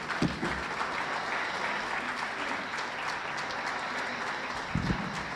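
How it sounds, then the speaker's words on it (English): Sustained audience applause after the IGAD State of the Region address by His Excellency, a dense, steady wash of many hands clapping with a few louder claps standing out. "let me request we stand, we give His Excellency a better clap"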